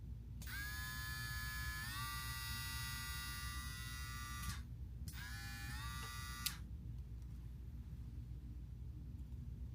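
A VGR two-speed electric hair trimmer whirs with a bright, steady buzz, running for about four seconds, cutting out briefly, then running again for about a second and a half before stopping, with a low rumbling background beneath it.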